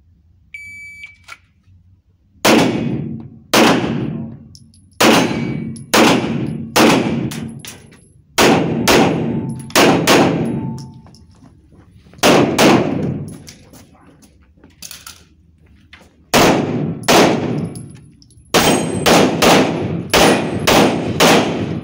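Gunshots crack on an IPSC practical shooting training range, loud, sharp reports fired in quick bursts with brief pauses between strings, each ringing out with a short echo.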